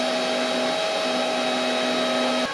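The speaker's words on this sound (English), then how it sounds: "I've just noticed the sound of the fan has gone quieter and quieter." Cooling fan of a PATON 250 Pro MIG welder running in a workshop: a steady, loud whirring hum with a faint tonal whine, cutting off abruptly at the very end.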